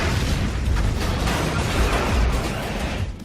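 A loud, dense blast of explosion noise fills the whole stretch, a continuous rumbling roar with crackling bursts and no voices.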